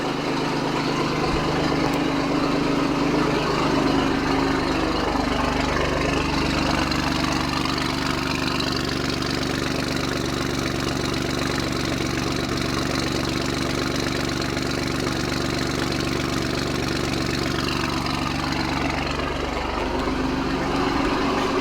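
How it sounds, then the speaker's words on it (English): Alfa Romeo Giulia Quadrifoglio cold start with catless downpipes, a TFL X-pipe midsection and stock rear exhaust. The engine holds a loud, raspy, elevated idle throughout, rising and settling slightly in pitch, close to the exhaust. "It's going to be a cold start on a Giulia Quadrifoglio with catless downpipes and a TFL X-pipe in the midsection"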